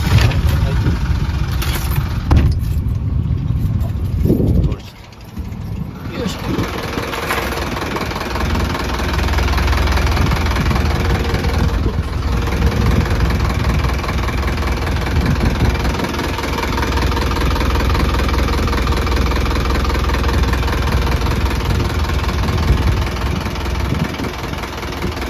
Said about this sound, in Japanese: エンジンもしっかりメンテナンスされており、現時点で特に不具合はありません。